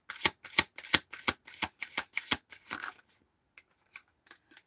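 Tarot cards being shuffled by hand: about nine crisp, rapid riffling bursts in a steady rhythm, close and fairly loud, followed by a few softer taps and card slides before it trails off.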